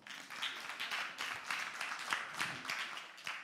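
Church congregation applauding a member named Guélor, a faint, dense round of many hands clapping that carries on steadily for several seconds.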